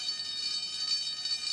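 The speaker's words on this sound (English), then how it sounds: "The alarm has sounded!" A cartoon fire alarm rings in a continuous, shrill, buzzing tone with a slight pulsing wobble, loud and steady for its whole brief span with no other sounds.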